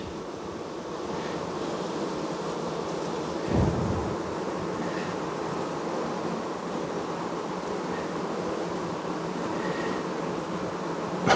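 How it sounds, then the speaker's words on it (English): Honeybees buzz around an open hive in summer heat, a dense steady drone of many wings close by, with one louder pass of a bee near the microphone partway through and no talking. "I'm trying to get the bee to go out from under the ear."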